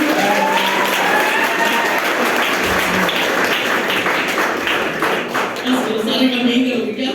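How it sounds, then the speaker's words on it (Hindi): Loud, sustained applause from an audience fills the whole stretch, steady and dense with voices mixed in throughout. "जोरदार ताली लीजिए।"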